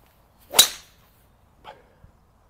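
A golfer's driver tee shot on a course: one sharp whooshing strike of club on ball, followed by a fainter swish about a second later and a small tick, with no talk.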